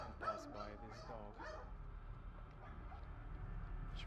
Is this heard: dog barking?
yes